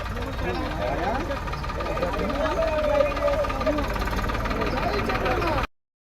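A garbage collection tractor's engine idles close by, a continuous low chugging rumble that holds steady before cutting off abruptly near the end. A voice speaks over the engine.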